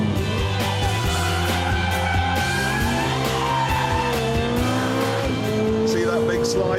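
A Ferrari 430 in race mode slides on a track, its tires squealing and skidding over a continuous engine roar with rising and falling revs, loud and close.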